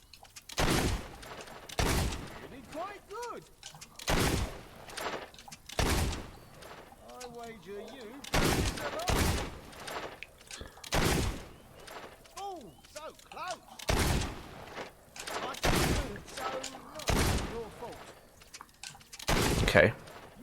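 Gunshots aimed at bandits in Fable 2, a dozen or so loud, spaced single blasts at irregular intervals, with a voice talking between them.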